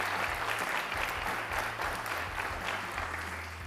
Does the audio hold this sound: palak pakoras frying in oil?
no